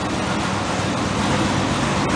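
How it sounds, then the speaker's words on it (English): A 1965 Mercury pickup truck engine idles nearby with a constant low rumble and broadband hum, no voices. "I can't believe it's sitting there idling on its own."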